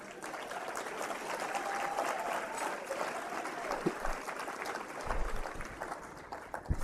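Audience applause fills an awards gala hall, steady sustained clapping with a faint whistle, some thumps and a bit of crowd murmur toward the end.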